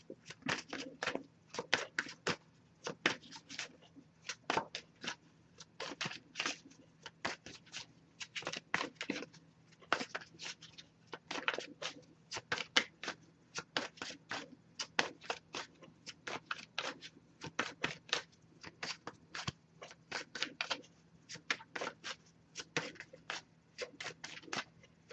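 Oracle cards are shuffled steadily for a long stretch, producing dense, rapid riffling and soft flicking bursts at close range with a faint low hum underneath and no talking.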